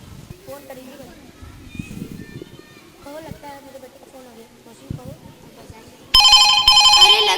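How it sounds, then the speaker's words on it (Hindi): A loud electronic telephone ring bursts in near the end, following quieter background talk and household noise. "अरे लगता है मेरे बेटे का फोन आ रहा है"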